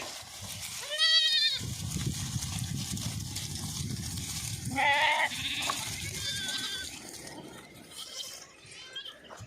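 Two bursts of high, quavering bleats from young goats, separated by rustling and shuffling noises, fairly close.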